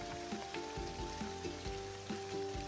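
Onion and goat meat fry in hot oil for a bhuna gosht, giving a steady close sizzle and crackle with a few faint tonal hums in the background and soft clinks of stirring.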